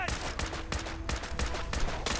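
Gunfire in Fallout 4, a series of sharp, evenly spaced shots about every third of a second, loud and close, set against steady game background noise.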